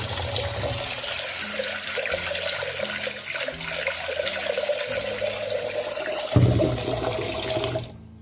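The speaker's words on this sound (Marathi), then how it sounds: "डाळ कुकरमध्ये घेऊन तशीच लावायची नाही ती धुवून घ्यायची आहे तुम्हाला तर आता पाणी वगैरे सोडले" Tap water runs steadily over lentils being washed for dal, a constant close rush with gurgling splashes that cuts off just before the end.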